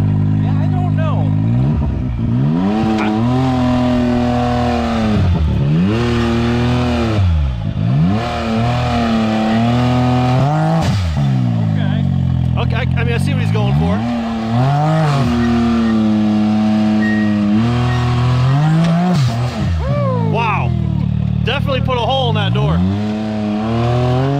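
A 400-horsepower Can-Am X3 side-by-side fitted with saw blade wheels revs loudly and repeatedly, its engine pitch rising and falling in sweeping surges, with voices talking over the steady roar.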